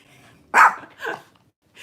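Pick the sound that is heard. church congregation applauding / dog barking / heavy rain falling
dog barking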